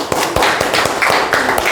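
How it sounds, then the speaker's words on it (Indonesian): Children clap in a classroom during an Arabic lesson, a short burst of quick, uneven hand claps close by, loud and overlapping, with faint voices underneath. "tepuk tangannya anak-anak"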